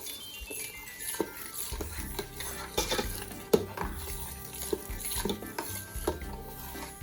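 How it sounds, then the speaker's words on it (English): A spoon stirring alkaline pasta sauce seasoned with onion powder in a pot, scraping and clinking against the sides in an uneven rhythm, close and fairly quiet, with no talking. "now you wanna stir it all up."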